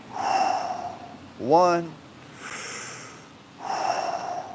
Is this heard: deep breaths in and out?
yes